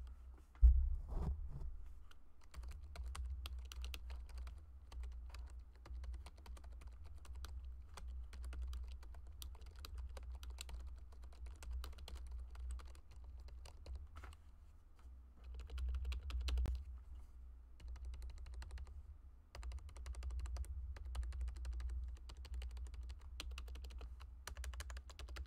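Rapid typing on a modded Razer Cynosa V2 keyboard, continuous clattering keystrokes over a low hum, with brief pauses and a few louder key hits across the whole stretch.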